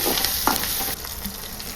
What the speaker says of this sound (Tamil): அடுத்து கருவேப்பிலை நல்லா வதக்கிட்டு